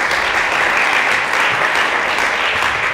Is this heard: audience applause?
yes